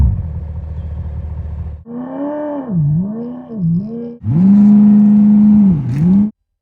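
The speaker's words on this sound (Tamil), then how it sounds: "V8 என்ஜின் சவுண்ட்லாம் வரும்னு நினைக்கிறேன்." A Mahindra BE6 electric car plays a simulated V8 engine sound through its speakers, with synthetic revs rising and falling in several loud, close bursts and a sustained high hold before cutting off, with no speech.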